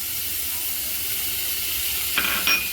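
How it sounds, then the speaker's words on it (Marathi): A quarter kilo of khoa is roasted in a kadai over low gas for puran poli, giving a soft, steady hiss with a couple of brief clinks near the end. "आता खवा आपण ना या कढईमध्ये टाकून द्यायचा"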